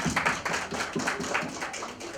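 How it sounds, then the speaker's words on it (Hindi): An audience at a Bollywood New Year bash poster unveiling at a country club breaks into continuous, dense applause, a steady wash of many hands clapping at once with no pauses. "आई थिंक इनके लिए बहुत जोरदार तालियां बजाएं"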